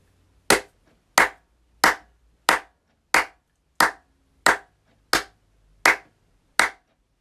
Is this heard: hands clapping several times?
yes